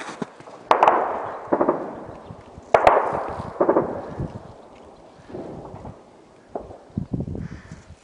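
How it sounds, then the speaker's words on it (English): Gunfire and explosive cracks during the battle for Donetsk Airport in Ukraine, with several sharp reports echoing across open ground, spaced irregularly, some louder and nearer, others fainter and more distant. "People are in there shooting out here."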